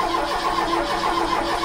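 A Ford Pinto engine in a Mk3 Cortina cranks on the starter with the ignition cut, so it never fires. It gives a steady, close, continuous mechanical whir that runs unbroken throughout.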